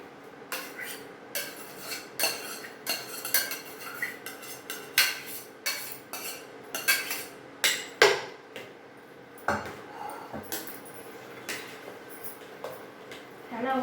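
A spoon scrapes and knocks against a pot while stirring cooked rice and lentils for bisi bele bath, a steady series of metallic clinks and scrapes repeating at an uneven rhythm.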